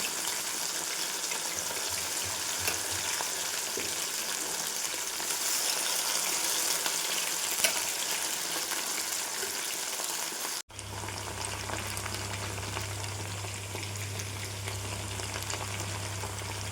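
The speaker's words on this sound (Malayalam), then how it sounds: "കടായിക്കുള്ള ചിക്കൻ നമുക്ക് വറുത്തെടുക്കാം കേട്ടോ." Chicken pieces for kadai chicken sizzle and fry steadily in a pan, a dense close hiss that continues throughout, with a sharp cut partway through and a low hum underneath afterwards.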